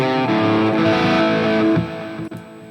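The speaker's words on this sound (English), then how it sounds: "And the crunch channel of the Soldano." Electric guitar run through a Hotone Ampero on its Soldano crunch channel amp model, playing thick, distorted sustained chords that ring loud, then cut off abruptly, leaving a brief muted scrape and a short tail.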